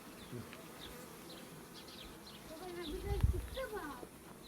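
Bees buzzing steadily in a close swarm, a continuous insect drone with voices talking faintly underneath.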